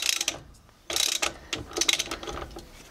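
Locking wheel nut removal tool turning a locked wheel nut on a car, giving a run of close ratcheting clicks and grinding metallic turns in several bursts with short pauses.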